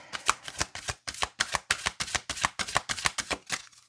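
Tarot cards being shuffled by hand, a rapid run of crisp riffling slaps repeating at an even pace, close and clear with no talking.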